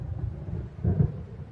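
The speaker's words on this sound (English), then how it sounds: "It seems there's a storm coming." Low distant thunder rumbles from an approaching storm in the Alan Wake video game, a murky swell that builds and peaks briefly before easing back into a steady background drone.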